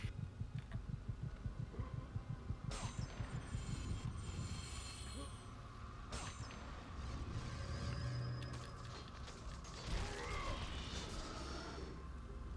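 A heartbeat sounds in God of War (2005) game audio, a steady low thumping pulse repeating through the first few seconds and then fading under droning music and ambient game sound.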